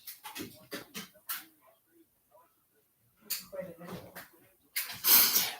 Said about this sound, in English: Now one dog's stuck on the stairs.